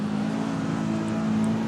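A car engine in the video game CarX Street drones steadily at moderate volume with a sustained, slightly rising hum, no voices present.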